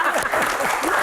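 An audience in an Indonesian Q&A session claps in a brief, dense burst at moderate volume, with faint voices mixed underneath.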